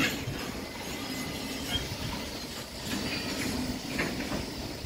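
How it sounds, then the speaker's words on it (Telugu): Falaknuma Express rolls along the rails with a steady, fairly quiet rumble of wheels and carriage, faint rhythmic clatter running through it from start to finish. "మీరే చూడండి మన ట్రైన్ ఏం చేస్తాడు వచ్చిందో"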